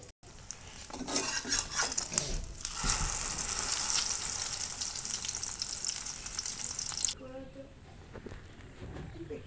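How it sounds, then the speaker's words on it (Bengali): A duck egg fries in a pan with a continuous close sizzle that swells loud in the middle and then drops off. Utensils clink around it, and a voice is heard faintly in places. "আমি হাঁসের ডিমটা প্যানের মধ্যে দিয়ে দিলাম। ওদিকে ডিমটা ভাজা হতে থাক"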